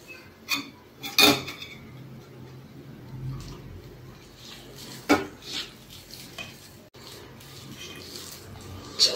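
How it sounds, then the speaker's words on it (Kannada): A spoon scrapes and clanks against a bowl while goli baje batter is mixed with curd, in irregular bursts of knocks and squelchy stirring with quieter gaps between. "ಚೆನ್ನಾಗಿ ಗಂಟಾಗದ ಹಾಗೆ ಕಲಿಸ್ಕೊಳ್ಬೋದು."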